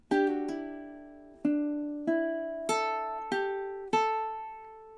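A ukulele plays a short phrase from a song, about seven plucked notes in a measured rhythm, each ringing clearly and decaying, close and solo.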